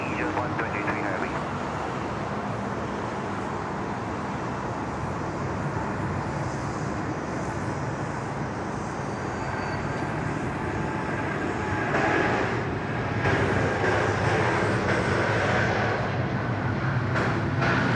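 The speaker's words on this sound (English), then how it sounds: "There she goes, beautiful, lovely departure there from United" A United airliner departs from Sydney Airport, its jet engines a broad, steady roar that swells toward the end, with voices talking at times over it.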